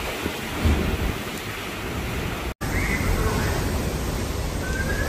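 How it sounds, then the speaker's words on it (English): Loud, roaring storm noise of driving rain and gusting wind, constant and close, with a brief cut midway. "unleashing howling winds, torrential rains, and a treacherous surge of ocean surf"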